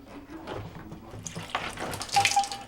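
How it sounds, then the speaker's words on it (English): Water trickles and splashes from a disconnected washing machine inlet line during an Estate washer repair, faint and close, rising into a brief spattering run near the end. "Sometimes little water will come out."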